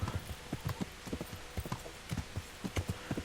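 A ridden horse's hooves clip-clop in a steady, even walking rhythm in the medieval game Kingdom Come: Deliverance, each hoof strike distinct and fairly close, with no talk over it.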